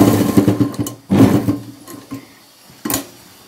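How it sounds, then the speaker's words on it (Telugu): Rapid mechanical whirring bursts of a sewing machine stitching the half collar of a uniform dress, running in several short runs separated by pauses, loud and close. "స్టిచ్ చేసేసుకుందామండి."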